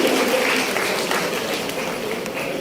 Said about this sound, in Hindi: तालियों की गड़गड़ाहट शुरू होनी चाहिए हौसला बढ़ाइए विद्यार्थियों में।